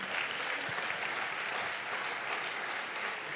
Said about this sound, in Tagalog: Dagdagan mo pa yung palakpak mo.